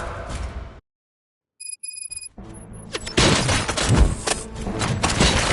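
Gunfire in the video game RoboCop: Rogue City during a prison riot, a loud dense burst of shots and crashes that builds after a brief silence and electronic beeps, with a voice briefly heard.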